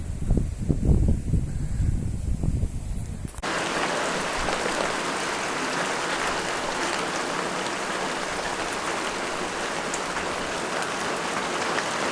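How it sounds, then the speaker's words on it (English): Strong wind outdoors on a homestead, with low blustery gusts buffeting close for the first few seconds, then a steady, loud rushing wash of air through the surroundings with no talking. "It's exceedingly windy at the moment."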